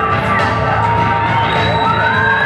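A film-presentation audience cheers and applauds a guest at a screening of Balade entre les tombes, a loud, dense, continuous roar of crowd noise with whoops throughout.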